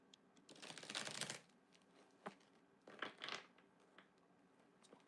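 Tarot cards shuffled by hand, quiet close riffling bursts with a longer rustle at first, then a few shorter flutters and taps, alone without voices.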